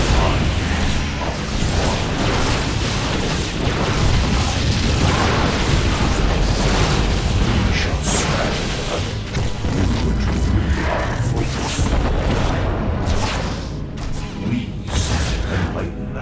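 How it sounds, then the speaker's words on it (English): Particle cannons blowing apart in StarCraft 2: Legacy of the Void, a dense, continuous roar of booms and crackling bursts with mechanical clatter, loud and sustained for the whole stretch. "The particle cannons have been destroyed"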